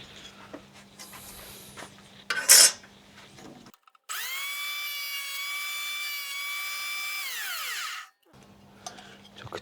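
A power tool makes fine cuts in wood on a scrap-built boat project, a sustained high whining buzz lasting about four seconds between quieter stretches, preceded by a brief sharp scrape.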